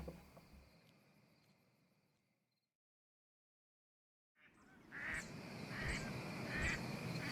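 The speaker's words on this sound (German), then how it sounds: "Vor der Burg landete Stella erst als Ente auf den Wurzelausläufen eines Baumes" A duck quacks in a German fantasy audio drama: after a stretch of quiet narration ambience and full silence, a run of loud, close, evenly spaced quacks rises over a rustling backdrop.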